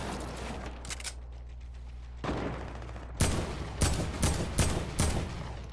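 Sniper gunfire in the video game Fortnite: several sharp, loud shots ring out at irregular intervals, each cracking out of a quieter background of game ambience.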